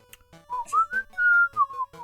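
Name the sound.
person whistling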